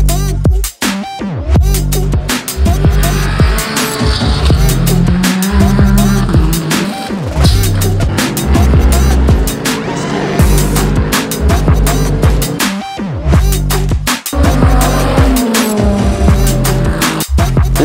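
Race cars at the Circuit de la Sarthe during the Le Mans 24-hour race produce loud, continuous engine roars as they pass close by, with repeated surges and sweeping passes.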